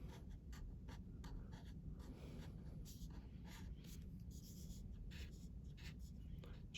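A pencil or pen drawing marks on paper while sketching a castle, giving quiet, repeated short scratchy strokes in an irregular rhythm, close but faint, with soft speech in the background.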